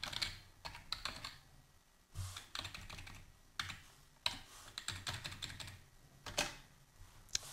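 Keys clatter on a computer keyboard as PHP code is typed, in quick bursts of keystrokes broken by short pauses, fairly close and steady, with no talking.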